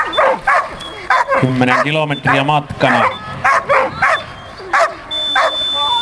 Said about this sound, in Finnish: Näin koira rauhoittui ja sitten lähdettiin liikkeelle.